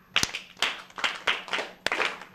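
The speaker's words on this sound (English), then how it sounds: "Clap for her." Children at a Sunday church service clap together in a short burst of several quick, close claps, with a few loud sharp slaps standing out; no talk over it.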